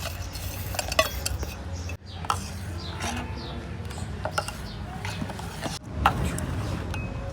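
A spoon stirs and mixes bhel ingredients with jaggery in a bowl in a village kitchen, giving repeated close scraping and clinking against the vessel with faint background noise.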